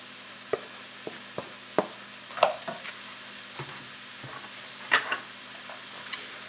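Bacon dropped into a soup pot with kidney beans and stirred, giving sparse clicks and knocks of utensil on pot over a low steady hum, with a few louder clatters.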